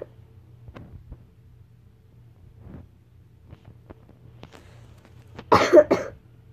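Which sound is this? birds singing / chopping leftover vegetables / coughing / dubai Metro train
coughing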